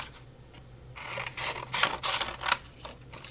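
Scissors snipping through paper scraps while cutting out Halloween tags, a few close, crisp cuts in quick succession over a faint background hum.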